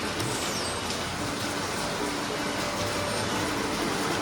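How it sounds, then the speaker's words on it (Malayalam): Heavy rain pours at Kollur Mookambika temple, a dense, steady hiss that stays loud and even throughout with no gaps. "നല്ല മഴയാണ്."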